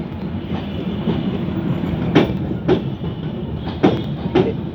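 A train runs along railway tracks on the Jashore to Kaliganj line, a continuous low rumble punctuated by several sharp, regularly spaced wheel clacks over rail joints, close and fairly loud.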